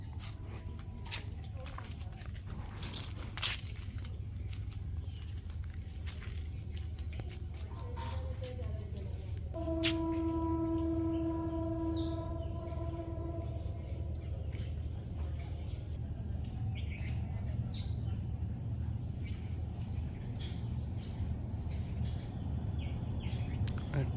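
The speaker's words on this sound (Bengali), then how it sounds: "ট্রেনের ঝনঝন ঝনঝন শব্দ।" A train approaches in the morning with a low, steady rumble throughout. A brief horn-like tone sounds around the middle, and insects and birds are faint in the background.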